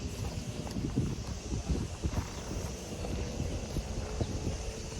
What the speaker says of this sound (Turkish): Duyuyorsunuz zaten rüzgarın sesini.